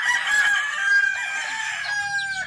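A male rooster crows in one long, drawn-out call, loud and close, with no talking.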